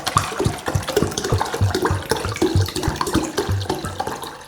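Tap water gushes and splashes into a cooking pot in a close, uneven stream, with bubbling and sloshing surges and no one speaking.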